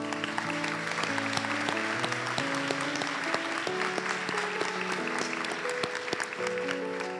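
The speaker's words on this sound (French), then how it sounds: "applaudissons chaleureusement les diplômés des études supérieures" An audience at a university graduation ceremony at the Shippagan campus applauds the graduate students, steady dense clapping that runs throughout alongside a held musical accompaniment.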